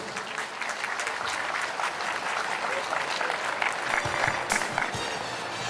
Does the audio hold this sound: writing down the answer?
no